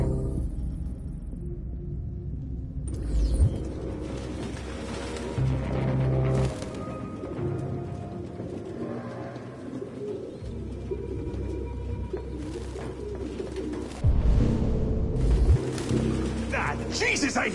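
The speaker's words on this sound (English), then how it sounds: "No human could live with all these fucking pigeons." Pigeons coo and flutter in the Detroit: Become Human video game, soft repeated coos mixed with clicking and mechanical rattles, while a person talks over them at times.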